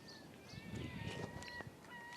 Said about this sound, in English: Oh, there's a seagull.